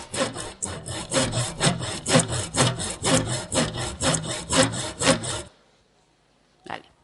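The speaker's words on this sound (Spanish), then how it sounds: "es un serrucho, lo que tiene él en la mano para cortar la madera" A hand saw cuts through wood in steady back-and-forth strokes, about a dozen close, even rasps over five seconds, then stops, followed by a brief faint knock in the quiet.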